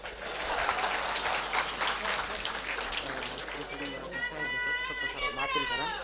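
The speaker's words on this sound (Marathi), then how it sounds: "वाजवा टाळ्या." A crowd at a Marathi stage speech by a speaker breaks into sustained clapping, dense and fairly loud, mixed with shouts and children's voices, with a whistle-like tone rising near the end.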